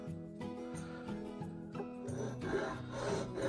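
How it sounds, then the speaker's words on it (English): A Nicholson rasp filing wood while spiral carving, heard as repeated scraping strokes in a steady rhythm, close and moderately loud, ending in a longer rougher run of rasping. "this is actually a rasp"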